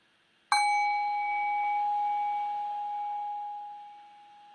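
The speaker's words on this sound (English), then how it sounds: "Rest your awareness on the decay of the bell." A meditation bell rings once with a bright metallic strike, then a clear sustained tone slowly decays over several seconds, alone in quiet.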